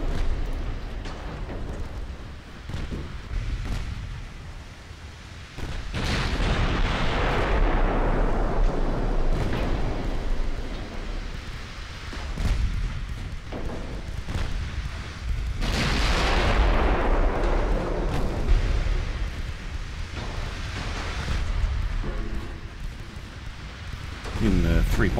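Battleship 3.5-inch guns fire in a naval battle in Ultimate Admiral Dreadnoughts, with loud booming blasts and long rumbling roars rising and fading twice amid other gunfire, under someone talking.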